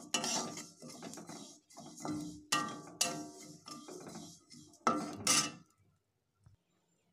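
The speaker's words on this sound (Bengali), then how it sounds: "এখন জিরেটা নেড়ে নিচ্ছি।" Cumin seeds stirred in a hot pan while roasting, a spatula scraping and clinking against metal in short irregular strokes, close and fairly loud, trailing off into near silence at the end.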